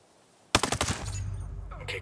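Automatic gunfire in the video game Ghost Recon Breakpoint erupts suddenly after a quiet start: a rapid, loud burst of shots that settles into a sustained, rumbling volley.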